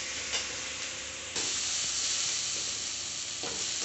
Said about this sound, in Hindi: अच्छी तरीके से भून लेंगे, ये हमारा स्टफिंग तैयार हो जाएगा।